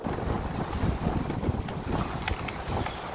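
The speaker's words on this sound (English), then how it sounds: "there's been a slight increase on the wind" Wind gusting around a sailboat at sea near Eddystone Rock, a steady roaring buffet on the microphone with waves washing against the hull, close and continuous with no voices.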